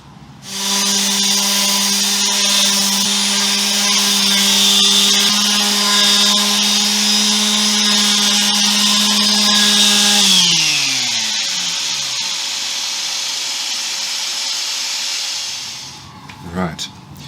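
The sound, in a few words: power sanding wood with sanding discs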